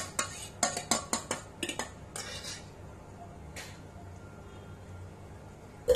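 A metal lid clatters onto a pan of bread pancake cooking on a stovetop, a quick run of close, sharp clinks and taps that settles into near quiet, with one last soft knock after a pause.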